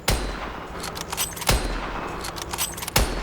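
Gunfire in a first-person video game: sharp, loud shots crack roughly every second and a half, each with a brief rattling tail, with no talking over them.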